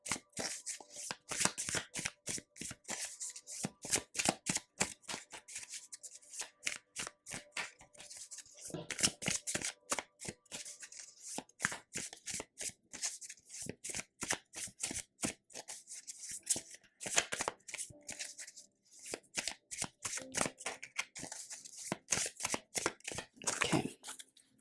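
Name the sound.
shuffling and drawing tarot cards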